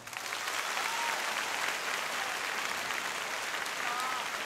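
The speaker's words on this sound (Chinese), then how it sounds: "有幾多人係第一次睇我嘅拍拍手？" An audience at a 2007 Cantonese stand-up comedy show claps together, producing dense, even applause that holds steady and fairly loud for several seconds.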